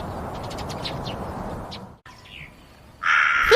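A cartoon crow in a Hindi children's story gives a loud, harsh caw that bursts in at the end, after a stretch of grainy background noise and a brief pause.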